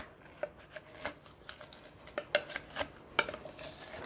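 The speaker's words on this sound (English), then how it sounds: "some fresh mint leaf. First I have to muddle it." Fresh mint leaves with lemon wedges are pressed with a muddler in a glass, producing a quiet series of irregular tapping knocks and soft crushing thumps, about a dozen over a few seconds, close and alone.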